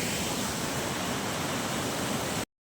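Fast-flowing waterfall at a tourist spot in Ramakuppam mandal, Chittoor district, a steady broadband roar of rushing water, loud and unbroken, with no voices, cutting off abruptly at the end.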